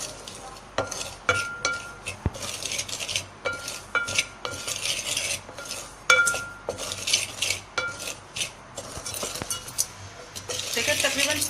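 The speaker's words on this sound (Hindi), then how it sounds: "सूजी को हमें इस तरीके से मीडियम आंच पर भूनना है।" Semolina is roasted over medium heat while a metal spoon scrapes and clinks against the pan in a steady, repeated stirring rhythm, with a faint sizzle underneath and no talk.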